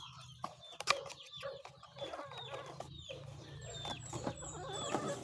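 Chicks in a brooder under a 60-watt Firefly heat bulb make scattered high, thin peeps over low, soft clucking. The sound is faint and fairly close, and there is no talk.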